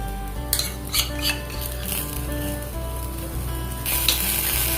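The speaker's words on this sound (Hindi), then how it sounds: "टमाटो केचप को भी थोड़ा अच्छे से फ्राई कर लूंगा" Tomato ketchup frying in a pan for egg curry masala, a steady loud sizzle with metal spoon scrapes and clinks against the pan, plus a hum running underneath.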